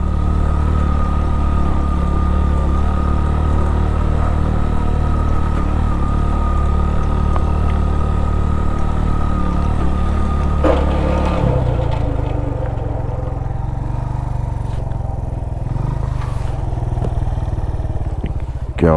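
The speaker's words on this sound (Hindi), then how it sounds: "आवाज़ आई मोटरसाइकिल की खौफनाक किस्म की।" A motorcycle engine runs loud and rough throughout on a straight road in Chunda Valley, Skardu, with a harsh grinding drone that suddenly drops and changes character partway through.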